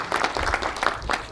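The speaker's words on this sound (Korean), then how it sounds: "큰 박수를 한 번 더 부탁드리겠습니다" Brief burst of audience applause at a Korean community briefing on the Goseong Songhak-dong ancient tomb group's World Heritage nomination, a short moderate patter of hand claps with low rumble underneath.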